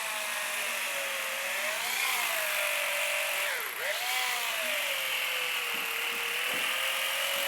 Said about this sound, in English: I'm going to try to use my electric knife and see how I can trim it out.